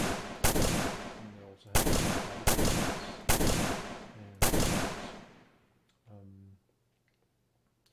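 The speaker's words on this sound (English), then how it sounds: "So let's shoot up something" Five loud, sharp gunshots from a first-person shooter demo built in Unreal Engine 4, fired at a steady rhythm with ringing decays, then a brief mechanical clatter and near silence as a voice speaks.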